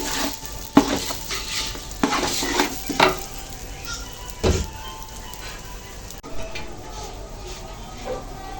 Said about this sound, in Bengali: চালগুলো ভালো করে বেজে নেব